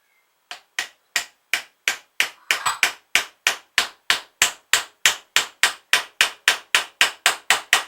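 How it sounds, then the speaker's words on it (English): Hammer blows forcing a tube into an RC model boat, about twenty sharp, evenly spaced strikes in a steady rhythm, loud and close with no talking. "If it don't fit, get a hammer."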